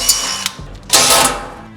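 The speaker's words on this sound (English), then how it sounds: "we are putting these screws that we removed from the shelf back in." Screws being driven back into a cabinet locker shelf inside a RAM ProMaster van, heard as short mechanical ratcheting bursts and clicks, loud and close, with a longer whirring run midway.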